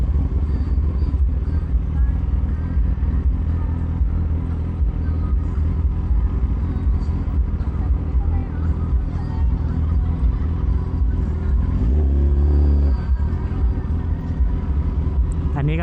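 Heavy night traffic rumbles past a ZX10R motorcycle at a Loy Krathong festival, a dense continuous drone of engines with a rising whine near the end, while someone talks over it.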